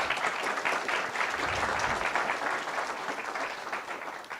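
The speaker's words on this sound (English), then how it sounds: "So applause, please." A conference audience at Nix State of the Union 2024 applauds in a dense, steady wash of clapping that holds for about four seconds and fades slightly at the end.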